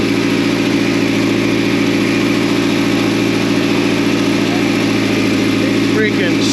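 A repaired car engine, just back from radiator and fan work, runs loud and steady at close range with a continuous mid-pitched drone, while voices talk over it near the end.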